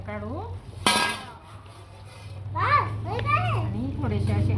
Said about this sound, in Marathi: तर आपण आता झाकण काढू